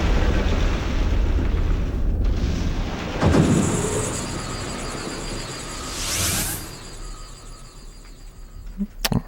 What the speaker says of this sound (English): we actually want to pelt apples at this Electrode, which will make it explode